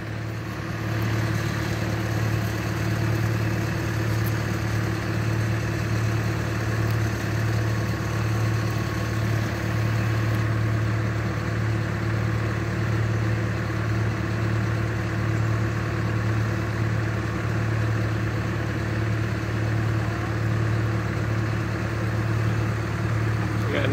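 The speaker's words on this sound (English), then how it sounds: "Nice and quiet, just sitting there idling." A boom truck's engine idles steadily for a long stretch, a smooth even hum at moderate volume with no talking.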